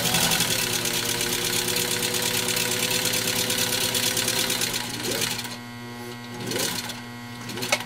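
A Singer 15-91 sewing machine runs steadily stitching leather, a loud continuous mechanical whir with rapid needle rhythm that slows and pauses near the end.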